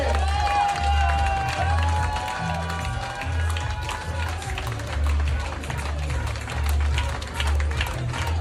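A studio audience on a French television talk show applauds Louis Sarkozy with dense, sustained clapping and some cheering, under a voice and steady low tones at the start.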